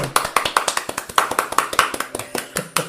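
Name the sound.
applause for Bram Stoker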